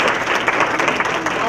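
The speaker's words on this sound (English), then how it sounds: "let's give her a round of applause" Applause from an audience at a community college diversity night, a dense continuous wash of clapping heard briefly with a voice audible underneath.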